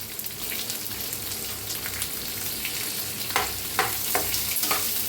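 Onion fries and is stirred in a hot pan for a dosa potato filling, a continuous bright sizzle with occasional louder crackling bursts near the end, close up and with no talking.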